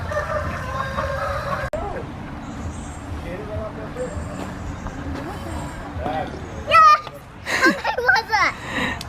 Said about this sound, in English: this mini golf course has ducks and geese